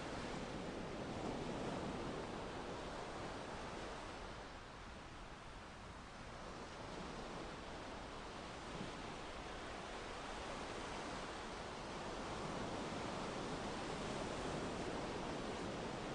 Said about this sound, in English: The waves run in and then rush out again with a whoosh.